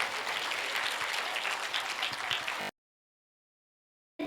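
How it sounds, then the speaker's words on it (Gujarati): Applause from an audience at a school Republic Day event, a dense steady clapping that rises and holds for under three seconds before dropping to silence. "તાળીઓથી વધાવી લો."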